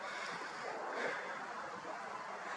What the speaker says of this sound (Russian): Раз у нас такой сильный ветер